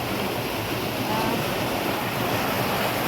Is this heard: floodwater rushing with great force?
yes